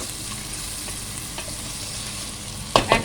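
Spinach sambar ingredients sautéing in a pan, a continuous close sizzle with faint stirring, then a short burst of louder scraping and spattering near the end.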